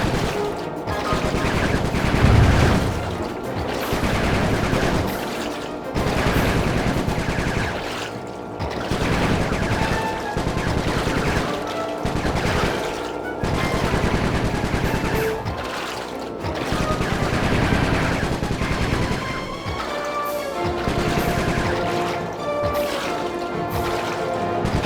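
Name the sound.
gunfire in video game Sly 3: Honor Among Thieves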